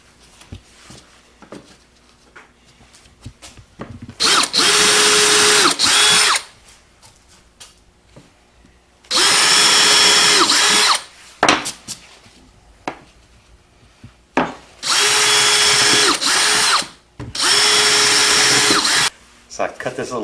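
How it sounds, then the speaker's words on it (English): Power drill boring holes into a scrap-wood body piece, heard in four loud bursts of about two seconds each, separated by quieter workshop gaps with faint handling noise. "Now I'm going to drill a few holes in the body for the tail and the head to attach."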